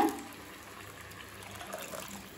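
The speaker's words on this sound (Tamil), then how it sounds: "பெரிய எலுமிச்சை அளவு புளியை தேவையான அளவு தண்ணியில் கரைச்சி சேர்த்துக்கலாம்." Tamarind dissolved in water is poured into a pot for a Tamil fish curry (meen kulambu), making a steady, soft liquid splash and gush that runs for a couple of seconds.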